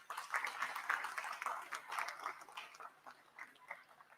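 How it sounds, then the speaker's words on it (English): Audience applause at a university convocation ceremony, a dense patter of many hands clapping at moderate volume that thins out toward the end, heard without speech. "Can we have a big round of applause for them?"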